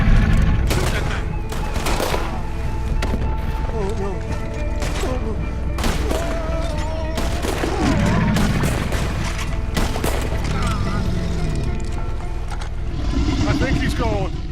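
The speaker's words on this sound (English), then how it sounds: "Shoot that thing." Gunfire in Red Dead Redemption 2 aimed at a large alligator, with sharp repeated shots cracking out in irregular bursts over continuous game noise, while characters talk throughout.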